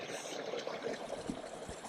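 A small waterfall on a Portuguese quinta gives a steady, soft splashing and trickling of falling water, fairly faint, with a few brief louder spatters.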